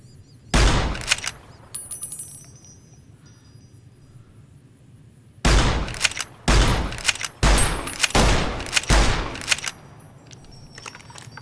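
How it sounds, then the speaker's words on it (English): A bandit fires a gun in the video game Fallout New Vegas: a loud opening volley, a lull, then several more bursts of sharp, rapid shots close by. "I think the dude doing the shooting is over here"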